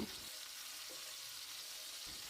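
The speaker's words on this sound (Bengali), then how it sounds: "এবার এগুলোকে উল্টে দিয়ে অপর দিকটাও একইভাবে ভেজে নেব।" Pieces of pomfret fish frying in hot oil after being turned, a soft steady sizzle and crackle heard close up with no talking.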